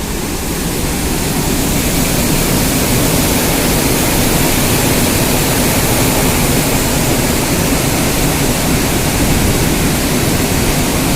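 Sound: water rushing through opened dam gates on the Brahmani river

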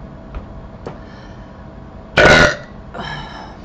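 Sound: burping

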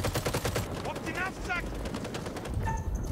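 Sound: gunfire in video game House of Ashes

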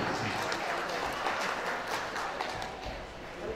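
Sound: audience applause at an inauguration ceremony

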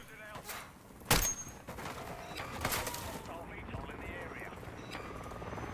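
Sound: hostile VTOL aircraft flying in a video game

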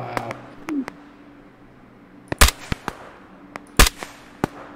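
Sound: sniper rifle shot in the video game Operation Harsh Doorstop

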